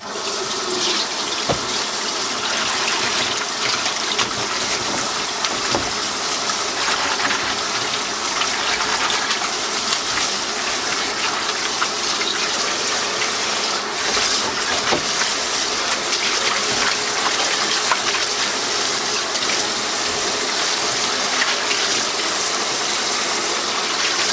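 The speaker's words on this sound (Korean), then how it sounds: "참나물을 씻어줄 건데요" Tap water runs steadily into a sink as chamnamul greens are rinsed, a continuous close gush with occasional sloshing and splashing that lasts well over twenty seconds, with no talk.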